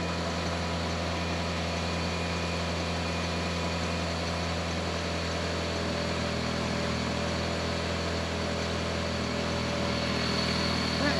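A car engine idles steadily right after a valve cover replacement, a smooth continuous hum with a low rumbling drone held at an even level throughout.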